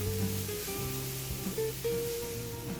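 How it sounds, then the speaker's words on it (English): Minced garlic sizzling in a hot pan, a steady close frying hiss that runs without break, with a faint hum beneath it and no voices. "we'll go in with our minced garlic. Mix and allow the garlic to cook until it softens"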